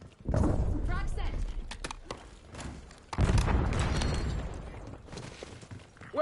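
A frag grenade detonates in the shooter game Black Ops 6, a heavy booming blast among thuds and gunfire, with voices calling out over the combat.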